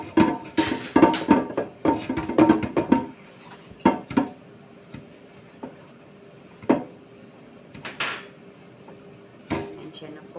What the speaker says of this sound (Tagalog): Pasensya na po at maingay ang aming kaldero.